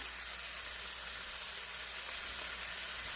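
Porterhouse steak frying in a pan on medium-high heat, a steady dense sizzle with no breaks, close and even throughout.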